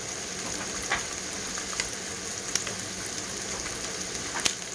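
Wagyu steaks sizzling in a pan as their fat renders, a dense continuous hiss with occasional sharp pops and spits, close and unbroken by talk.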